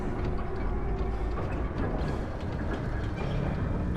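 A train rolling along rails inside a mine in God of War Ragnarok, a steady loud low rumble with faint rhythmic clatter, continuous and near.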